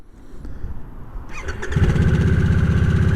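A Harley-Davidson Nightster motorcycle engine cranks briefly, then catches and settles into a loud, steady idle rumble close by, with no voices.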